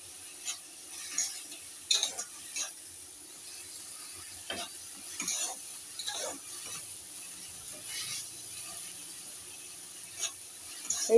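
Spatula stirring shankar (stingray) fish kosha curry gravy with Kashmiri chilli powder in a pan, giving faint, intermittent scraping clicks and soft wet strokes over a low sizzle, with no talking.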